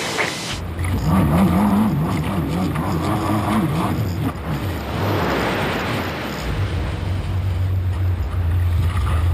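A jet-driven rescue boat engine runs in the bay at Bondi, a loud steady drone with a wavering whine, mixed with wind buffeting the microphone and splashing water.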